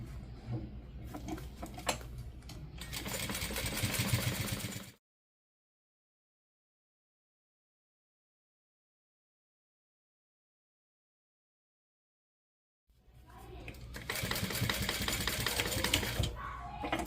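A sewing machine stitching fabric during a sew-along, base stitching and top stitching a seam, runs in a steady mechanical burst for about five seconds, then falls silent and starts up again near the end; no talking.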